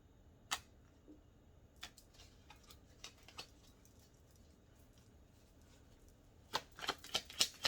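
Quiet riffling and soft snapping of tarot cards being shuffled, sparse at first then a quick cluster of flicks near the end, close and faint.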